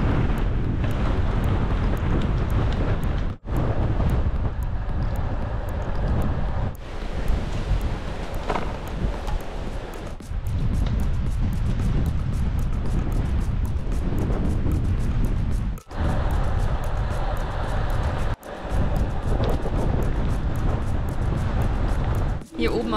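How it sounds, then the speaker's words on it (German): Strong wind buffets the microphone on a mountain in Tenerife, a loud continuous roaring rush with brief dips, while a person speaks over it. "Pfeift der Wind echt heftig"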